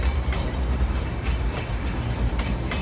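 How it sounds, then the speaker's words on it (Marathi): Matheran toy train running along its narrow-gauge hill line through forest, a steady low rumble of rolling wheels with faint rhythmic clicks, continuous and fairly close, with no voices. "बघू शकता टॉय ट्रेन चालली आहे."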